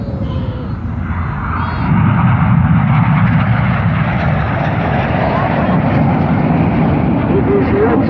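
Red Arrows display jets roar overhead at the Ayr Airshow, a loud, continuous rumbling engine drone that swells slightly as they pass, with an announcer speaking over it.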